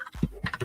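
Quick clacking keystrokes on a computer keyboard, a short irregular burst of typing heard close up and fairly clear.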